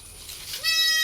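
A 2.5-to-3-month-old cross-breed goat kid lets out a single loud, close bleat that starts partway through and holds steady to the end, after a quiet lead-in.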